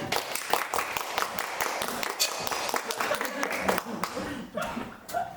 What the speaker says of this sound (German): Applaus für Gesche.